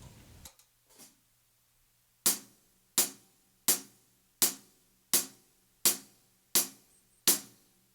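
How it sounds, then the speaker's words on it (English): Drum kit struck in a steady pulse of sharp, evenly spaced hits, about one and a half per second, each with a bright splashy decay, played alone after a brief faint noise at the start. "take your right hand, you're going to play it over on the hi-hats, and you're going to count eighth notes"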